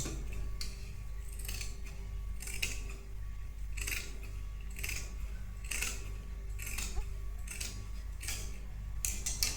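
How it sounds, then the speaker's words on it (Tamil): Scissors cutting fabric for a lehenga skirt, a series of sharp, close snips repeating every second or so against a quiet room with a low hum. "மார்க் பண்ணி ஆனதுக்கப்புறம் எக்ஸ்ட்ரா இருக்கிற ஃபேப்ரிக் இருக்குது இல்லையா, இந்த இடத்துல அது கட் பண்ணிக்கோங்க"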